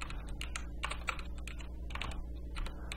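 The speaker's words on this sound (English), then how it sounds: "We can type the page number" Rapid keystrokes on a computer keyboard entering a plugin command, with crisp, irregular clicks close to the microphone and no talking.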